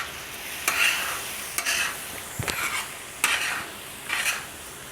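Mutton liver masala on a tawa, bright sizzling and frying with repeated scraping strokes of a spatula stirring the masala, close and fairly quiet, no talking.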